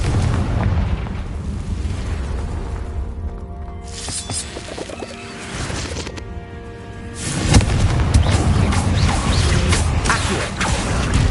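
Confringo fire spell explosions in Hogwarts Legacy give loud booming bursts, a run of blasts over a rumbling game soundscape, with no talking.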